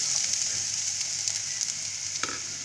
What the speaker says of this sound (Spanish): En una sartén vamos a añadir aceite. Y mientras se calienta vamos a añadir la cebolla y el ajo.